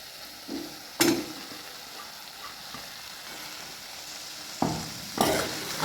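Chopped boiled eggs being stirred into masala frying in oil, a low steady sizzle punctuated by a few sharp scraping strokes of a spatula against the pan, close and moderately quiet.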